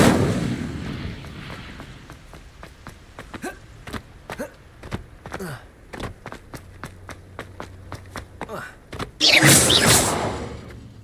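Repeated bursts of the Incendio fire spell in Hogwarts Legacy, each a sharp whooshing crack amid rapid footsteps and scuffling combat noise, ending in a loud roaring blaze of flame; a voice shouts briefly between them.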